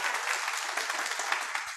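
An audience applauds at a presentation on a marketing plan: a dense, steady wash of many hands clapping, fairly loud and unbroken for the whole brief stretch.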